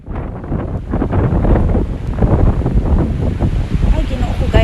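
Strong wind blowing outdoors in England on a cold snowy day, roaring and buffeting right against the microphone in loud continuous gusts, with a voice faintly underneath.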